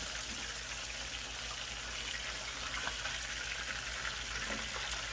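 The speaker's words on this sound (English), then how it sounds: "Once you can hear the bubble sizzle lighter and lighter and lighter" Steady crackling sizzle of chicken frying in hot oil, constant bubbling hiss with faint pops, no voices.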